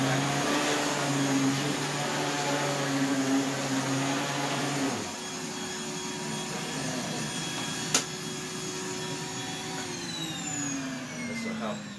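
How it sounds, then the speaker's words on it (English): A Rainbow SRX vacuum cleaner roars steadily while vacuuming a bed, its motor pitch dropping partway through, with one sharp click near the end. "to start vacuuming, you just press this little trigger right here"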